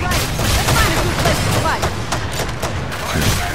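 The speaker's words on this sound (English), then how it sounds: "so it fires a barrage of bullets very quickly" Rapid-fire gun barrage in the Evolve video game, a dense continuous stream of bullets hammering out loudly and steadily with booming impacts throughout.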